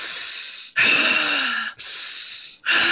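A voice imitates heavy breathing with three loud, raspy inhale-exhale cycles, each roughly a second long, up close.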